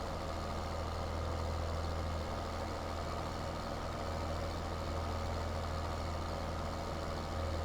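A tractor drives along a shady dirt lane on a farm, its engine a steady, loud low rumble and drone that continues without a break, close and unaccompanied by talk.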